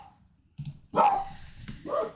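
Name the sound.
dogs barking in a video game (Pumpkin Eater)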